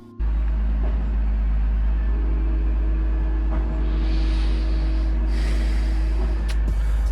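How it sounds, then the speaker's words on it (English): A cement truck pouring concrete outside a house rumbles steadily and loudly at a low pitch throughout, a continuous engine drone with faint higher hiss rising near the end. "if you can still hear that cement truck that's working away in the front of our house"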